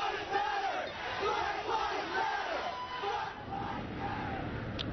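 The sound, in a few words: protest crowd marching in the street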